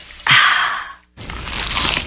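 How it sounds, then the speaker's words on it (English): A bite into a crunchy, cheesy pizza slice gives a sudden crisp crunch, then a short pause and a longer stretch of crackly chewing and tearing, close and fairly loud with no voices. "Is that the sound of an ooey gooey cheesy crunchy slice of P-I-Z-Z-A?"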